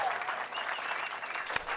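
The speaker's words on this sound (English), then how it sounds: "So one more round of applause to start the championship match." Audience applause at a PBA50 bowling championship stepladder final, a steady wash of clapping hands from a crowd filling the moment, moderately loud and continuous.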